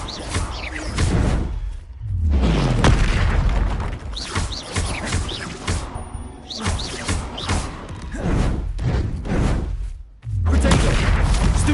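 Confringo blast spell explosions in a Hogwarts video game land as loud, repeated booming bursts with whooshing tails, packed closely over several seconds.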